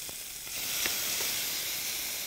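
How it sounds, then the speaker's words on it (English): Onions and tomatoes sauté with spices in a pan for an Indian dish, giving a steady, soft sizzle and hiss with a few faint stirring clicks, heard alone and fairly quiet. "So we add the onions and tomatoes."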